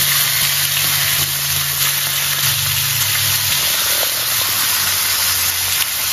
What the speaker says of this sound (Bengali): অন্য একটা কড়াইতে চিংড়ি মাছগুলো দিয়ে ভেজে নেব